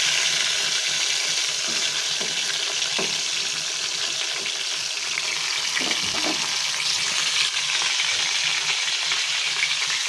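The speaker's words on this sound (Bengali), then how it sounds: "আর মামামের জন্য এখানে আমি চিকেন বের করেছিলাম, সেটাই একটু ভেজে দিচ্ছিলাম" Chicken pieces frying in a pan, a steady, dense, close sizzle running throughout with occasional faint clinks and stirring sounds.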